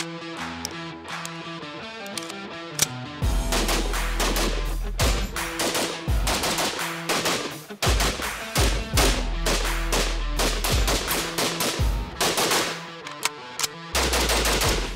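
Sig Spear XM7 rifle firing on a range with a muzzle brake fitted, loud sharp shots in rapid strings and clustered bursts with brief pauses between them.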